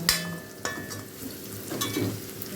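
Onions, shallots and garlic sautéing in coconut oil, a soft sizzle with a few sharp clicks and scrapes of a spoon against the pan, no voices.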